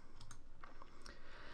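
Keys on a computer keyboard are pressed during work in Cinema 4D, giving a few light, close clicks scattered over a second and a half against a steady background hiss.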